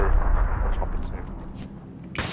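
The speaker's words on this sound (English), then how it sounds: "Oh shit, I threw a grenade in there!" A grenade going off inside a building in PUBG, a heavy low rumble at the start that fades away, followed by a short sharp burst near the end.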